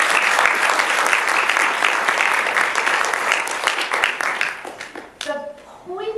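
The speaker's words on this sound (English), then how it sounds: "Give them a round of applause." Loud, sustained audience applause after a talk, steady throughout, tailing off near the end as a voice begins speaking.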